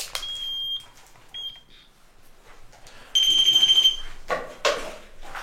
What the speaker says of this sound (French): je vais rallumer un troisième K2